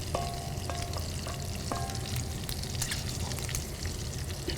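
Olive oil being poured shows up as faint, steady sizzling and crackling in a pan, with small scattered clinks and a continuous low frying hiss.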